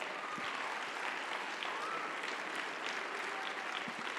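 A church congregation applauds at a Sunday service, a steady, even wash of many hands clapping at moderate distance that continues throughout without pause.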